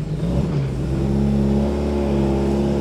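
An Austin Allegro from an old barn-find fleet being driven with its wheels dragging, giving a steady, loud low engine drone with constant mechanical hum throughout, no voices.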